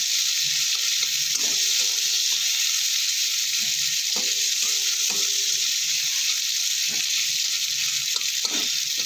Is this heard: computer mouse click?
no